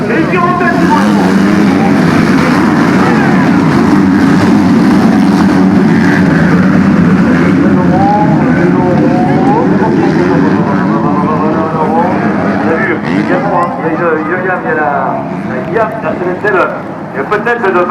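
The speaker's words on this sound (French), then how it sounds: "La Honda de Thibault Laurent qui est sorti comme une balle sur l'extérieur, il recoupe tout le monde et il tire en tête" Motocross bikes roar off the start line at a 2013 race in Brou, with a Honda leading out wide; a loud, continuous, dense engine drone fills the whole stretch beneath steady commentary.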